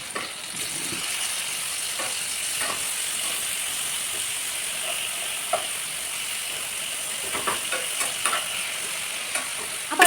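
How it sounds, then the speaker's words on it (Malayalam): Fish frying in a pan gives a steady, close sizzle of hot oil that runs throughout, broken by a few soft clicks and scrapes of stirring and no talk. "ഈ സമയം കൊണ്ട് നമ്മുടെ മീനും വറുത്ത് റെഡി ആയിട്ടുണ്ട് കേട്ടോ."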